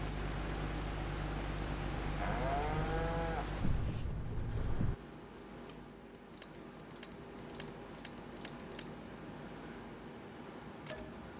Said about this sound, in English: they're all pretty dang good cows